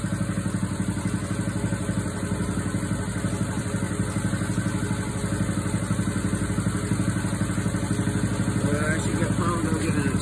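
A portable generator engine runs steadily nearby, a loud, continuous rumbling drone with a fast, even pulse that does not let up.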